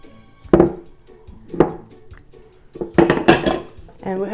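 Chocolate treat ingredients being mixed in a bowl, with a spoon clattering against the dish in a few sharp knocks and scrapes, close and loud, followed by a brief voice.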